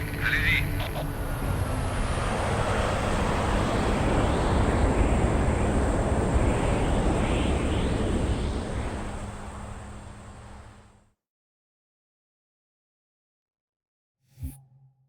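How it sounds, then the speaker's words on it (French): A Pelican dropship in Halo 3 coming in to land: a loud, steady roaring engine wash with a high whine that holds for about ten seconds, then cuts to silence before a brief thud. "Pélican en approche."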